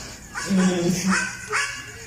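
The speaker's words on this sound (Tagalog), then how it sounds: "biglang tumahol ang aso" A goat gives a few close, sharp barks and yips in quick succession, like a dog's barking, mixed with whiny, voice-like tones.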